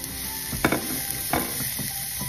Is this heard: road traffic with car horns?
no